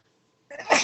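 A single sharp sneeze bursts out after a moment of near silence, close and fairly loud.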